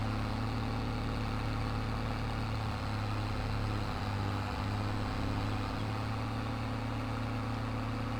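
A tractor engine runs in the Farming Simulator 22 video game, holding a steady low drone with a constant hum throughout, fairly close, with no voices over it.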